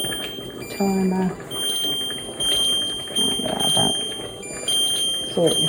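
A multi-cooker pressure cooker timer gives short electronic beeps, mixed in among a person's talk and kitchen handling noises.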